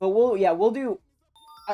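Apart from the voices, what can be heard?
unidentified notification sound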